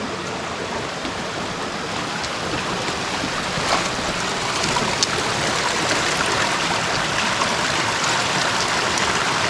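A waterfall stream rushes steadily along the Khao Luang mountain trail, a dense, continuous roar of water close by that fills the whole stretch and swells slightly louder partway through.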